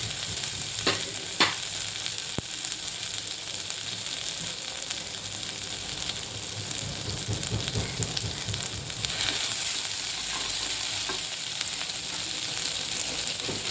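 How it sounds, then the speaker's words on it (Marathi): Cumin and green chili paste frying in oil and ghee for sabudana khichdi, a moderate steady sizzle with a few sharp clinks early on and swelling bursts of crackle as it is stirred. "त्यामध्ये पहिलं मी जिरा आणि मिरचीचं वाटण टाकते"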